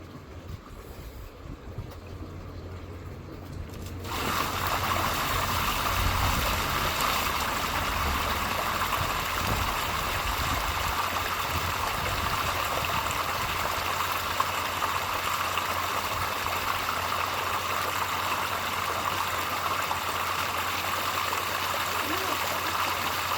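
Water rushes steadily out of a garden pond after its drain pipe is pulled free, a loud continuous gushing that starts abruptly after a few quiet seconds and holds unchanged to the end.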